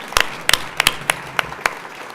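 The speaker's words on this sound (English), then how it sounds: "Can you just join me one more time in a round of applause for everyone that's been involved?" Scattered applause from an audience at a student competition for accessibility designs, a handful of separate sharp claps spaced out over a quiet room, thin rather than a full ovation.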